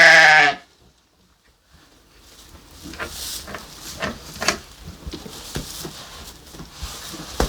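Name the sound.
ram bleating on a farm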